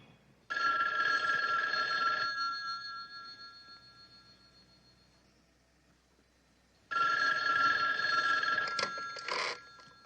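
An old landline telephone rings indoors in a 1970s crime drama, two loud bell bursts separated by a few seconds of near silence, with no voices.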